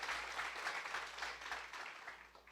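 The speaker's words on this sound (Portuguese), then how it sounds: "Aplaude Jesus, queridos." A church congregation applauding during a sermon, a faint, even spread of clapping from a distant crowd that carries on without a break and fades slightly toward the end.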